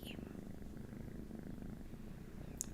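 A kitten purrs steadily up close, a soft low rumbling pulse that continues unbroken throughout, quiet and intimate.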